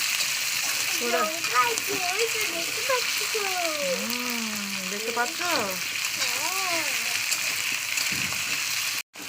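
Food sizzles steadily in a pan while being fried for bhorta, a constant hiss close by with people talking over it.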